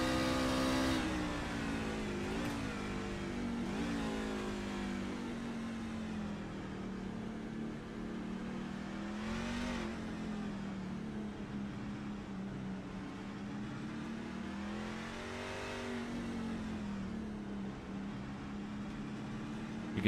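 Onboard a race truck at Mid-Ohio, the engine drones steadily with rising and falling revs as the driver feathers the throttle, a continuous close mechanical roar with no voices.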